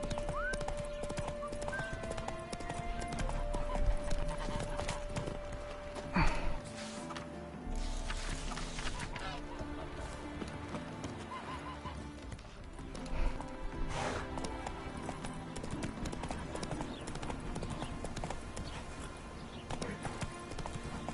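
Roach the horse from The Witcher 3 trots with steady clip-clop hoofbeats close by, plus a brief whinny, while someone speaks over game music and ambience.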